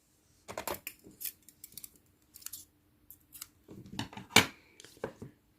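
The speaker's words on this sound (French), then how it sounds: "Et je vais couper le fil rouge." Scissors snip through red crochet yarn during an amigurumi Santa project, a few quiet, close blade clicks and cuts spread across a few seconds with brief soft handling noises between them.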